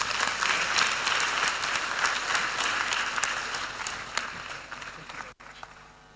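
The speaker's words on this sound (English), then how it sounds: "Please, can we give Madam Ahuna another round of applause, please?" Audience at the closing of a Sahel governance forum presided over by a vice president applauds loudly and steadily, the clapping tapering off toward the end.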